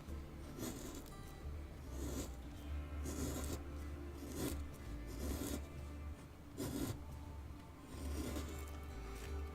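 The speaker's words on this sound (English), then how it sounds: "this particular gouge, I must have sharpened it just before I put them away last, because that's really nice and sharp, taking very little effort to cut" A sharp wood carving gouge shaves through wood in a series of short, rasping cuts, roughly every second or so, close and steady with no talk.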